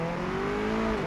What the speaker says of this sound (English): I could just about hear the tyre squeal